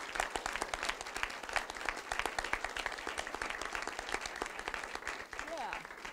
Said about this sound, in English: can we applaud our filmmaker?